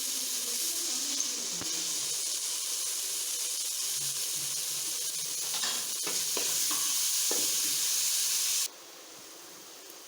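Ginger garlic paste fries with onion and tomato in a pan, giving a loud, continuous sizzle and hiss with occasional scraping stirs, until the sizzle drops suddenly near the end.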